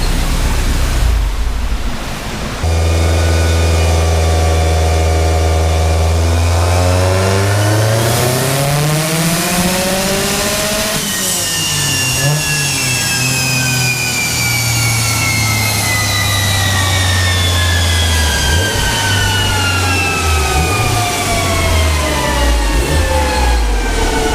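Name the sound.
Subaru WRX engine revving on a dyno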